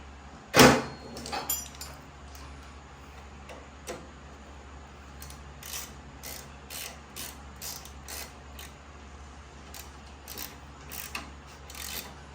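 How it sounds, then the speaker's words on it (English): Ratchet wrench clicking as a lock nut is tightened on a Baja Bug build, a sharp clank at the start followed by repeated bursts of close, rhythmic ratcheting clicks in a quiet workshop. "Ratchet."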